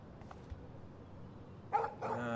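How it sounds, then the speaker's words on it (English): A dog barks in the Life is Strange video game, two short yelps early followed by a louder burst of barking near the end over a low background hum. "No barking."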